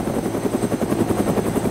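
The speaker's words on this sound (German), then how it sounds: "Der Heli ist so laut." A helicopter in the video game DayZ, a loud, continuous rotor drone with rapid rhythmic thumping that stays close and steady throughout.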